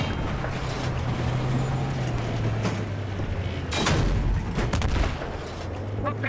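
Gunfire in the Battlefield 3 campaign, rapid bursts and sharp cracks over a continuous low engine-like rumble, with a heavier cluster of shots midway, loud and dense throughout.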